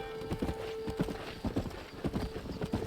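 A horse gallops in Red Dead Redemption, its rapid rhythmic hoofbeats pounding close and loud over game ambience, with no talking.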